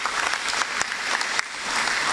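An audience at a school prize-giving ceremony applauding, a steady wash of many hands clapping with a few sharper individual claps standing out, moderately close and uninterrupted by speech.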